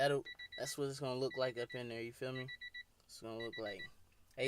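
A Honda's warning chime beeps in short repeated high pulses during an in-dash stereo install, the beeps coming in a few quick clusters under continuous close conversation.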